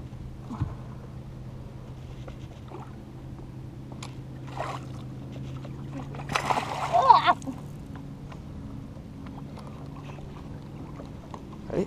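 A smallmouth bass is released into shallow lake water, landing with a brief splash and slosh around the seventh second, with people talking close by and a boat in the background.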